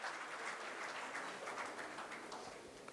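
Steady applause from an audience at an MSME summit welcoming the chief guest, a continuous dense patter of many hands clapping, fairly faint and distant, with no talking over it.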